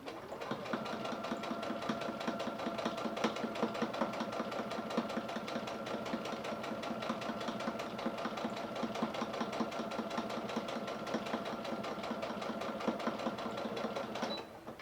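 A sewing machine back stitches a face mask with a steady, fast mechanical chatter, a close and even run of needle strokes that continues without a break.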